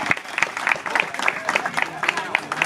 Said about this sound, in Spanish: Pastor, para usted el fuerte aplauso de la comunidad